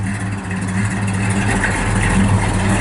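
A 1967 Plymouth Satellite with a 383 Chrysler V8 runs steadily nearby, a low rumbling idle holding a constant throb with no voices over it.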